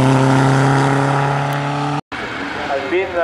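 A Renault Alpine at a historic hillclimb in Pluméliau runs its engine loud and close with a steady droning note, cuts out briefly, then picks up again with rougher revving.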